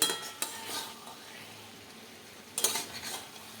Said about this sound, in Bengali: দিয়ে ভালো করে মশলাটার সঙ্গে নাড়িয়ে নেব